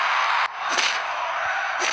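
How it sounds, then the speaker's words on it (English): A steady roar of a large crowd in a WWE video game fills the clip, loud and continuous, rising slightly in places like a stadium audience cheering. "And do you hear that crowd?"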